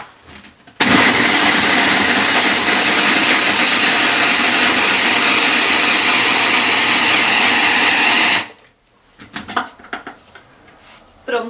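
Electric mixer blending ingredients for a soft stuffed bread, roaring loudly and steadily for about eight seconds before cutting out abruptly, followed by faint kitchen clatter.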